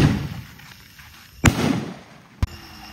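Firecrackers go off outdoors with heavy smoke, two sharp close bangs about a second apart, each followed by a short crackling decay over a low background rumble.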